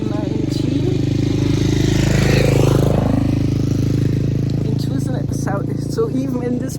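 Motorcycles roar past near a historic hotel in a quiet, scenic spot, a loud sustained engine drone that swells and fades as they go by, with a voice talking over it.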